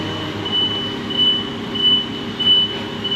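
A truck backs up a trailer, its steady high reversing beeps repeating at an even pace over a loud diesel engine rumble, with no talk.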